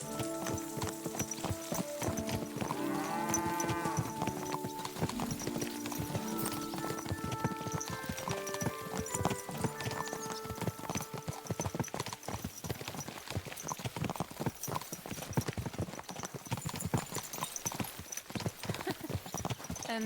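Steady clip-clop of a horse's hooves in the medieval role-playing game Kingdom Come: Deliverance II, an even walking rhythm running the whole time with brief tonal sounds near the start.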